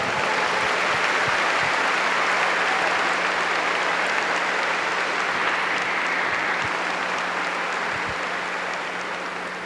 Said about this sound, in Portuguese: Give the Lord a big clap for that.